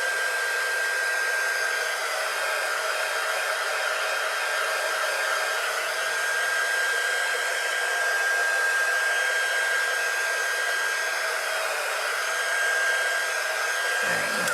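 A hair dryer blows on blue paint on a winter welcome door hanger, a loud steady whirring hiss held close throughout, stopping abruptly at the end.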